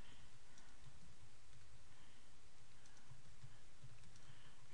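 Steady typing on a computer keyboard while a blog poster is designed, with soft, close key clicks tapping in an uneven rhythm over a constant background hiss and no one speaking.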